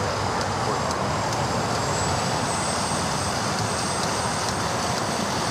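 An American Airlines A319 taking off from runway 25 right at LAX produces a loud, steady jet engine roar with a high whine, sustained without a break across the whole stretch.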